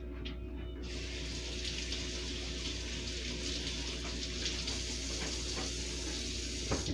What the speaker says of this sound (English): Now I got these little tomatoes, and I believe these are all washed, but we're gonna wash them just in case.